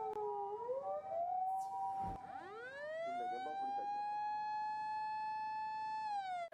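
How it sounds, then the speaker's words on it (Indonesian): A toy ambulance wails with an electronic siren, its pitch sweeping up and down before settling into a sustained, bright, close tone that cuts off abruptly at the end. "Wih, lihat, ada mobil ambulan"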